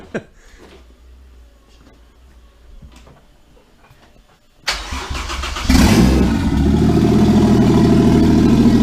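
Toyota Cressida with a 1JZ engine and exhaust cut at the downpipe cranks after a few quiet seconds of faint clicks, catches, and settles into a loud, raw, rumbling idle close by.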